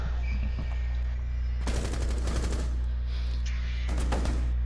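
Rapid automatic gunfire in Rainbow Six Siege, two sharp bursts of closely spaced shots, the first lasting about a second and the second shorter, over a steady low hum with no talk.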